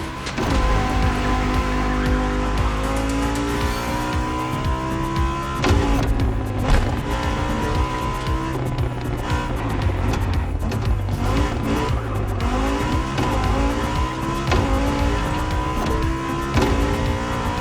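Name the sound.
race cars driving in the video game The Crew Motorfest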